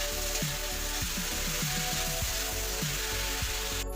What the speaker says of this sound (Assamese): গেছটো মিডিয়াম ফ্লেমত ৰাখি বিলাহীখিনি কেঁচা গোন্ধ যোৱালৈকে আমি অলপ ভাজি লওঁ